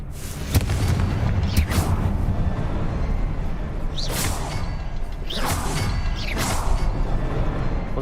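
Confringo fire blast spell in the video game Hogwarts Legacy, repeated whooshing bursts and booms every second or so over a constant loud rumbling background.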